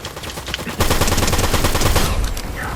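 Rapid assault rifle bursts in the game Fortnite, loud and close, with a sustained volley of fast shots following scattered earlier fire.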